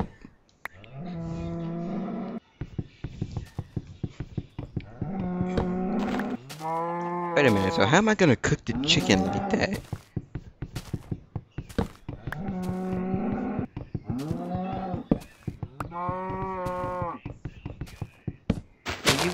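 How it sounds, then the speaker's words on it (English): Minecraft cows moo over and over in a rising and falling cycle, loud and near, with a game thunk or two and someone talking between the calls. "You damn cow, shut the fuck up. Damn. All I'm hearing is moo."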